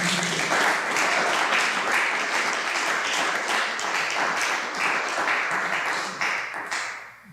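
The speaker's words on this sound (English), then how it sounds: "there's somebody in the crowd with that big clap" An audience at a poetry reading in an arts café bursts into sustained, dense clapping, holding steady for several seconds before tapering off at the end.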